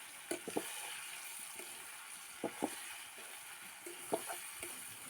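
Cumin seeds sizzle in hot oil, a soft continuous frying hiss broken by faint pops and scrapes of stirring.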